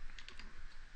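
Quick burst of typing on a computer keyboard, three or four close, faint key clicks in about a second against a quiet room hiss, with no voice.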